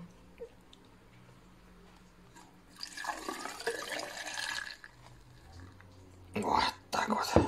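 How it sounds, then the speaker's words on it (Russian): Cane sugar moonshine poured from a container into a measuring beaker, a soft liquid trickle running for a couple of seconds and then a brief louder splash, with speech around it. "Сейчас мы нальем мензурку."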